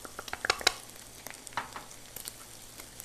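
Pieces of meat for gosht ka achar sizzling in a pan as a spoon stirs them, quiet crackling under scattered scraping clicks, close and steady without talk.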